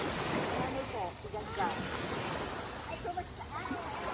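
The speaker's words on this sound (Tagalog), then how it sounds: "Andito naman kami ngayon sa tabing dagat" Sea waves wash along the seashore under gusty wind buffeting the microphone, a steady surf rumble with voices talking faintly over it.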